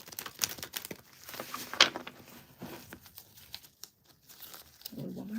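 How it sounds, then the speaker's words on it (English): Quiet, close-up papery riffling and snapping as cards are shuffled, in a few short bursts with soft pauses between. "One more shuffle."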